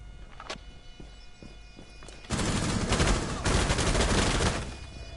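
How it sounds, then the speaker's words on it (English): Sustained rapid gunfire during a one-on-one firefight in Rainbow Six Siege: quieter scattered clicks and taps, then a loud, dense burst of automatic shots for more than two seconds, briefly easing before resuming and tapering off. "Who will win this 1v1 gunfight?"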